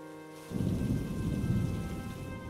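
Steady rain with low thunder rumbling in a cartoon storm scene, beginning suddenly and continuing loud and even throughout with no voices.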